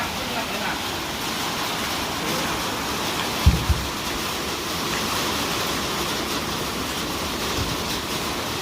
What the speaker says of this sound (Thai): ฝนมาอีกแล้ว